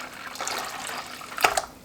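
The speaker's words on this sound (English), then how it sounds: "So I'm adding some more water here." Water splashes into a pot of kadhi pakora made with chickpea flour, a soft continuous stream with a brief louder splash near the end, close and moderately quiet, with no talking.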